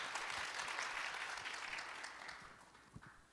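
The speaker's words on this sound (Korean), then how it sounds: "환영의 박수 부탁드리겠습니다." Applause welcomes three guests to a corporate IT panel discussion at a summit, a broad even patter of a seated audience that fades gradually near the end.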